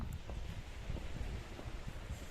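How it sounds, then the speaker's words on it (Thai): Strong wind buffets the microphone with a low, rumbling gusty roar at Sellin Pier on the seaside, steady and close throughout. "ลมพัดแรง"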